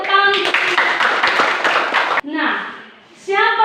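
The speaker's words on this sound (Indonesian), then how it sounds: "tepuk tangan" Students clap in a classroom, a dense burst of quick hand claps lasting about two seconds, close and loud, with voices speaking before and after it.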